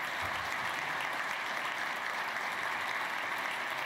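Steady, dense applause from a luncheon audience at the Dayton Early College Academy, honoring the DECA Prep finalists. The clapping is even and unbroken throughout, with no voices rising above it.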